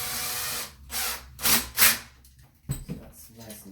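A screw is tightened down on the neutral terminal of a USB charging outlet in a few short, close whirring and grinding bursts, with a voice speaking over parts of it.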